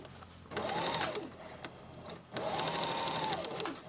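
A sewing machine stitches a waistband onto a skirt in two steady runs of rapid mechanical whirring, with a short pause and a few faint clicks between them. It sounds close and moderately loud.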